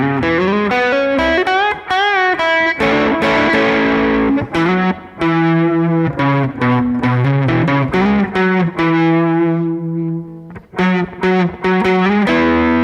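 Distorted electric guitar plays a further line of a solo, quick picked notes and slides flowing into held tones, loud and close, with no voices.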